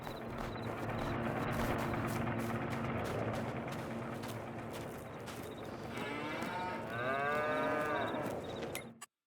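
Cows in a farm simulator game lowing over a steady drone of machinery or ambient noise, with a series of longer, louder moos near the end.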